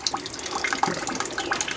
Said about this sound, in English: And it's Cold and raining.